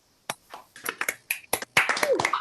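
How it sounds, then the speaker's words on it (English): Sparse, uneven clapping from a small online reading audience, with scattered claps and taps from several unmuted participants building into a brief burst of applause. "let's give our readers a nice round of applause"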